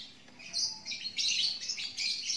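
A small cucak jenggot bird chirps in quick, bright bursts, close and fairly clear over a quiet background.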